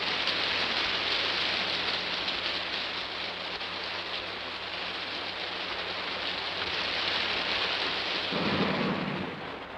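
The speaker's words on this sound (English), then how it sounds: "Well, there's your rain, but good." Heavy rain and thunder in a 1955 post-apocalyptic science-fiction film: a steady, even hiss of downpour that carries throughout, with a deep thunder rumble swelling near the end.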